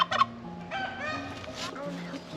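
Chickens in a December garden give a short burst of clucking near the start, followed by softer fowl calls and a drawn-out crow-like call, with faint talk in the background.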